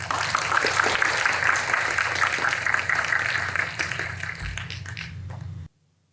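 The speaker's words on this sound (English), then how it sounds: "Please give them a round of applause." An audience applauds Master of Management Studies graduates at a Duke Kunshan University ceremony, steady sustained clapping that fades slightly and then cuts off abruptly.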